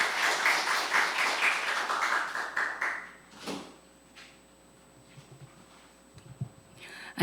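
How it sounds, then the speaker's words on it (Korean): An audience at a Korean policy forum applauds to welcome a speaker to the podium; a burst of clapping fades out over about three seconds, leaving a quiet room with faint scattered noises. "박수로 맞아주시면 감사하겠습니다."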